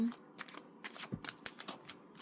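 Small paper word cards are shuffled by hand, a run of quick, soft riffling flicks and taps at close range in a quiet room.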